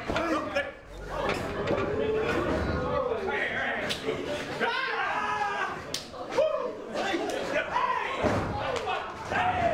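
Repeated heavy thuds from a wrestler's stomps in the Fight Factory Pro Wrestling video game land under continuous excited commentary, with slap-like impacts scattered through a busy mix.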